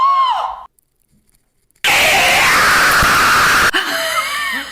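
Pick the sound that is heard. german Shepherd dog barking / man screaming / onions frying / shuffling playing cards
man screaming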